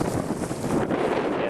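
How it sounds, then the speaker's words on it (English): Wind buffets the microphone in a continuous rumbling roar, steady and close throughout. "Yeah, it's a windy day. It's a nice breeze."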